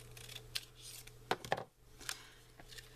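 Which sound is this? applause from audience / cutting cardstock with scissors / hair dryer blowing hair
cutting cardstock with scissors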